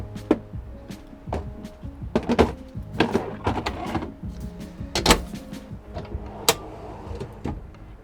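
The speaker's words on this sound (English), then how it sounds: "Another nice sliding out drawer, and another location for tackle right here" Tackle drawers on a 2020 Sailfish 270 CC center-console boat slide open and shut, giving a run of short thunks and clacks at close range, several in a row with brief gaps, without talk.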